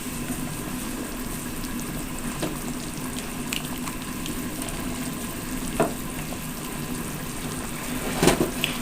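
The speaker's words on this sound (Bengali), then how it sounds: "আমার জলটা ফুটে এসেছে।" Water boils in a cooking pot, a steady close bubbling hiss with occasional soft clinks and a sharper knock near the end, no voices.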